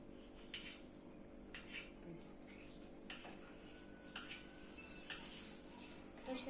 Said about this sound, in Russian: вот так вот мы нарезаем наши крабовые палочки